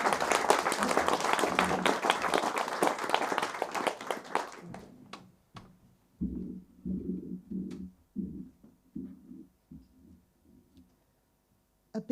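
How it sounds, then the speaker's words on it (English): An audience applauds poets at a literary festival poetry gala, loud sustained clapping that fades out after about five seconds, followed by scattered low thuds and knocks. "please give a warm round of applause to Alice Evans, Rebecca Samuels and John Elwood"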